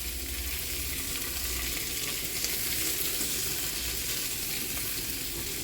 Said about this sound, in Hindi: तो हम ये आलू डाल देंगे इसमें। अब हम इसको मिक्स कर लेंगे आलूओं को।